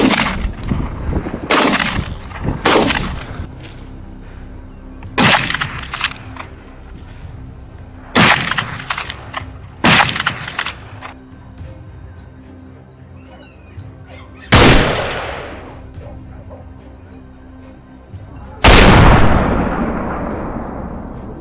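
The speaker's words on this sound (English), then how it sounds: "Without hesitation, shots rang out, quickly taking down each target." Hunting rifle shots fired at wild boars in a field ring out as a series of loud, sharp cracks, some in quick pairs and others spaced seconds apart, each trailing into a brief echo over quieter background noise.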